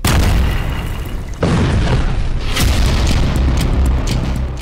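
A car explosion: a loud, sustained roaring blast fills the whole stretch, with a sudden jolt partway through and continuing rumble afterward, no voices.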